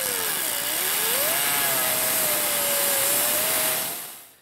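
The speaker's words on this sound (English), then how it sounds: "go ahead and cut the bolt." Power tool cutting through a rusted exhaust bolt on a 2003-2009 Subaru Outback during rear catalytic converter replacement, a loud continuous high whine with a wavering pitch, close up, stopping abruptly after about four seconds.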